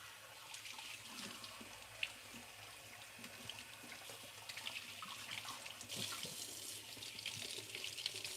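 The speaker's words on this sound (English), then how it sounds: "And I'll just rinse this so we can measure how much corn we use." Corn being rinsed under a running kitchen tap, a steady soft splash of flowing water, close and quiet, with no talking.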